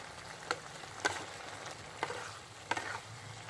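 Pumpkin curry with coconut sizzles gently in a pan while it is stirred, a soft continuous fry broken by four or five brisk scraping strokes, fairly quiet with no talking.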